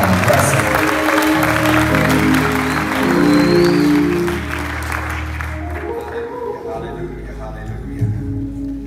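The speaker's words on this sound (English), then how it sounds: "let's give them all a hand clap this morning" A church congregation claps along during a morning service, a steady patter of many hands layered over sustained musical tones and voices, fading somewhat after the first few seconds.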